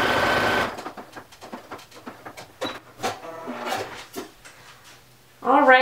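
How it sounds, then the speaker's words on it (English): A sewing machine stitches a fabric thumbhole cuff in short rapid bursts of close mechanical rattling, bracketed by louder handling noise at the start and end. "I am sewing from the stitching to the pink dot again."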